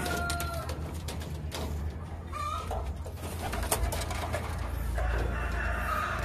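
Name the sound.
pigeons in a loft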